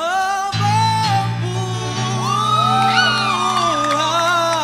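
A church congregation at a praise and worship service shouts hallelujah together, a loud sustained wall of voices and cheers with whoops rising over music throughout.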